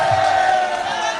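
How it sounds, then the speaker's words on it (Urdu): A rally crowd chants political slogans in unison, a loud, steady massed roar of voices filling the whole moment without a break. "ابھی نعرے کوئی نہیں، پلیز کوئی نعرے نہیں"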